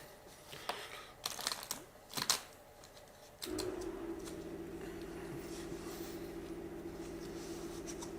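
Tarot cards are shuffled in a few quick, riffling bursts, then a steady low hum takes over.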